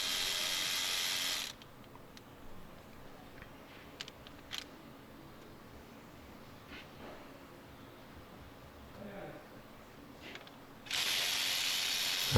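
Ratchet wrench loosening bolts on the timing chain of a BMW N13 engine: steady, even clicking bursts at the start and end, with quieter tool handling and small knocks in between, close up and without speech.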